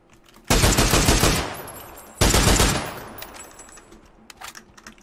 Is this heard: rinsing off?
no